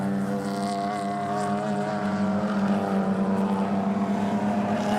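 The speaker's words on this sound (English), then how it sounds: "It is round number 5 of the Castrol BMW Race Driver Series, and there is plenty of action on the circuit for the moment." BMW race cars in a Castrol BMW Race Driver Series round at Taupo circuit, a steady, loud, continuous engine drone with sustained tonal whine, holding at near-constant intensity throughout with no talk.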